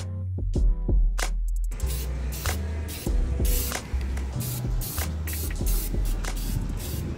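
Spray painting a metal frame for a sailboat engine bay: close aerosol hissing in repeated bursts, with the rattle of the can being shaken at the start.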